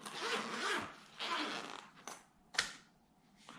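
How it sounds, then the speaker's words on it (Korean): A zipper on a portable camping toilet is pulled open in several quick rasping strokes, near and fairly loud, with a couple of sharp clicks between them. "지퍼를 개방하시고요"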